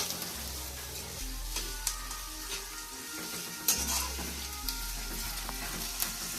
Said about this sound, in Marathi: एक मोठे 2-3 कांदे असतील ते. जास्त परतून घ्यायचं आता.